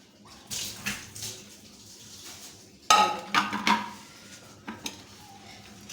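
Moringa (drumstick) pods being washed and rinsed in clean water in a metal pot or bowl, with splashing, sloshing and clinking of the vessel in irregular bursts, loudest near the middle, close by with no talking.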